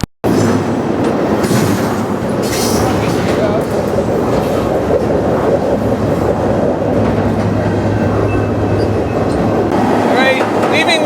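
A freight train rolls steadily through the Pacific Northwest between Missoula and Seattle, heard up close from aboard a car, with loud continuous rumble, rhythmic clickety-clack of wheels and occasional faint squeals.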